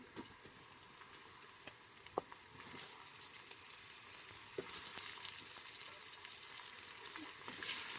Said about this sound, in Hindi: इसको हम अच्छी तरह से अब भून लेंगे